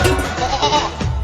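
A goat bleats loudly and close by in a few wavering, nasal cries that run one into the next.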